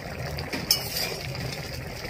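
A lid is lifted off a covered pot of moong dal simmering with ash gourd, giving one bright metallic clink near the start against a steady low background hum.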